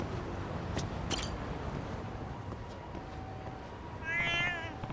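A cat meows in the video game Lost Judgment, with a short high mewing cry near the end over a steady low game ambience and a few brief clicks earlier.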